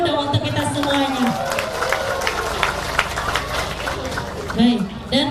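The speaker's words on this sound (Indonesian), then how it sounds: "Tepuk tangan dulu dong untuk kita semuanya." Crowd applause rises at an outdoor gathering of corn, cassava, cocoa and avocado farmers in East Lampung, a dense steady wash of clapping mixed with cheers and overlapping voices, with a loudspeaker voice breaking through briefly.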